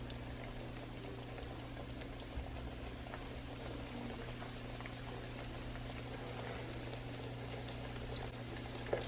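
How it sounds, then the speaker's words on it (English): Eggplant slices frying in hot oil in a pot, a steady continuous sizzle with fine crackling pops throughout, fairly quiet and unbroken, no talking. "now the oil is hot. I'm just going to add them"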